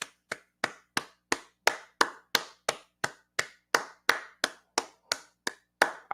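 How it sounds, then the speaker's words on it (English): A single pair of hands claps in a slow, steady rhythm for boxing fans: about sixteen sharp, close claps that are evenly spaced and separated by short silences, with no crowd joining in. "I want to give the boxing fans a round of applause."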